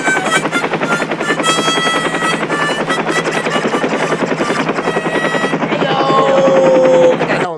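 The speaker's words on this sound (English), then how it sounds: "get that helicopter out of here" A helicopter is heard loud and steady throughout with a continuous rotor drone, and a person talks over it.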